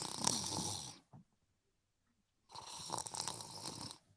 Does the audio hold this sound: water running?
no